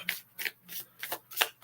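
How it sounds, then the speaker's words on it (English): A tarot deck being riffle shuffled at close range, with brisk, crisp bursts of flicking cards in a quick, steady rhythm of about five riffles, no talking. "Love a good riffle shuffle"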